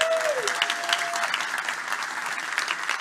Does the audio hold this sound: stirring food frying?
no